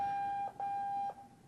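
An electronic buzzer sounds at a TechEd North America 2013 conference session: a steady single-pitched tone that cuts out briefly, returns, then stops, fairly loud with nothing else audible.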